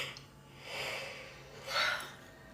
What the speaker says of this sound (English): I have to yawn again.